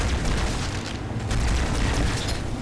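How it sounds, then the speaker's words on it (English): Grenade explosions in Halo 2 rumble with a heavy, continuous booming roar, loud and close, sustained across the short stretch with layered blasts and no talk over them. "Just throw some grenades first."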